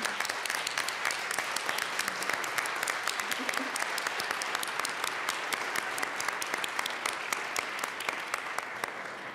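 A round of applause fills the Colorado House legislative chamber, a dense, steady clapping from many members sustained at even strength the whole time.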